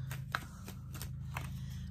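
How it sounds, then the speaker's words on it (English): Tarot cards shuffled by hand, a few soft riffling flicks and taps at close range over a steady low hum, with no talking. "One more shuffle."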